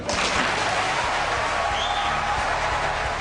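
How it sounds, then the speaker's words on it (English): A crowd at a televised political debate applauds a candidate, a steady, moderately loud wash of many hands clapping together, heard from somewhat back with no speech over it. "The crowd applauded Giuliani."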